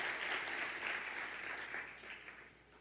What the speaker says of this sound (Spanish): Que le dé un fuerte aplauso a nuestro Dios en esta noche.